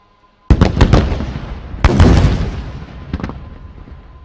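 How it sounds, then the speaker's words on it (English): Incendiary drone strikes hit fuel dumps at an army day military demonstration: a sudden loud blast, a rapid volley of sharp pops, a second heavy burst, then two lighter cracks, all rumbling away into a long fading tail. "Please watch area FOL dumps at Tango 4, Tango 5 on the left and Tango 8 and Tango 9 on the right for incendiary strikes."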